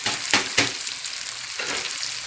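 Zucchini pieces sizzle and fry in a hot pan, a steady close crackle with two brief stirring bursts early on, no voices.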